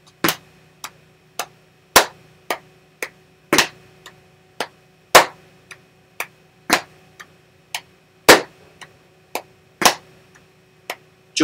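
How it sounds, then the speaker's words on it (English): Sharp, dry slaps of hands on legs and thumps of a foot on the floor repeat in a steady rhythmic pattern, some louder than others, clear and close over a quiet background with no talking. "We tap our dominant leg with our dominant hand."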